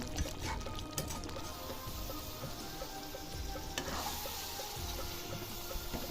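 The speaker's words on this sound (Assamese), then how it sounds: "এতিয়া মাংস খুব ধুনীয়াকৈ উতলি আছে" Steady sizzling and bubbling of local chicken meat cooking in a pot, continuous and close, with occasional stirring clinks and no talking.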